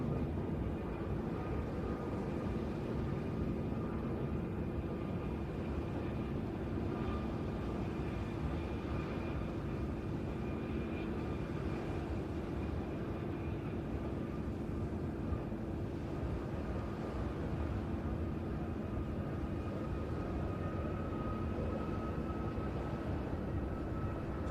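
Aerobatic display jets flying in formation at the Ayr air show, a faint steady distant roar of jet engines sustained throughout with no talk.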